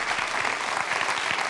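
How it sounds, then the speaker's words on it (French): Dense, steady applause rises from a studio audience at a quiz show final, a brief continuous burst of many hands clapping with no voices over it. "Ça s'applaudit très très fort."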